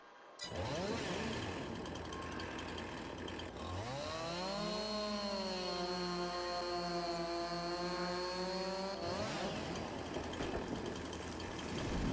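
A chainsaw in the Farming Simulator 22 video game revs up and holds a steady high-pitched whine for several seconds, then drops back to a rough idle, loud and close with no talking.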